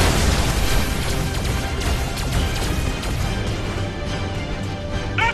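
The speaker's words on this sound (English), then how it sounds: "That's the Bordrake cannon blowing up," A dense, booming explosion of the Bordrake cannon in Skylanders Trap Team fills the clip with rumbling, crackling debris that fades slightly, ending with a short electronic chime.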